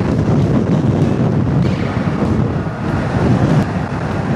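Strong crosswind roars and buffets the microphone of a motorcycle in a constant dense rush, with a faint low rumble underneath, loud and unbroken throughout.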